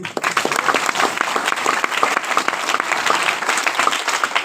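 Audience clapping in a hall, many hands with distinct sharp claps standing out in a busy, fluctuating rhythm, moderately close and continuous.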